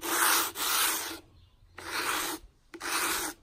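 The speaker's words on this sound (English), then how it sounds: "We'll just sand the whole thing." Hand sanding the raised areas of a piece of furniture being given an old-world finish, three bursts of close, steady rubbing strokes separated by short quiet pauses, no talking.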